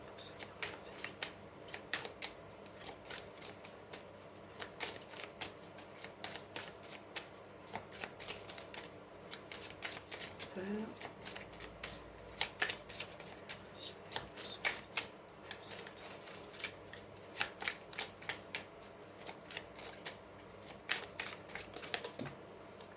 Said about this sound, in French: on va bien le mélanger puisqu'il est tout neuf